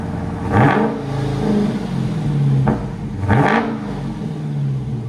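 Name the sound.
Dodge Challenger with Borla exhaust revving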